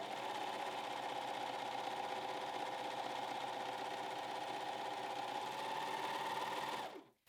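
Janome 1100D serger stitching fabric, a steady, close, continuous motor whir with fast rhythmic needle chatter that runs evenly for about seven seconds, then cuts off abruptly.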